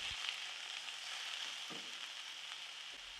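Steady sizzling and frying of chicken stir-fried over high heat in a hot pan, with a few soft scrapes of stirring, continuous and close.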